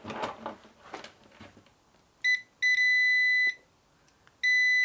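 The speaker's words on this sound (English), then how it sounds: "So a little beep there. It's a continuity tester" Soft handling noises give way to a high electronic beep from a digital multimeter's continuity tester, then a longer steady beep, and another beep starting at the end.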